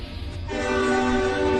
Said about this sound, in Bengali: তখনই ট্রেনটি হুইসেল বাজিয়ে চলতে শুরু করেছে